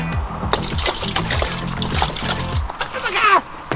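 Water sloshes and splashes in bursts over a few seconds inside a camper van, with a sharp splatter near the end and a voice briefly audible in the mix.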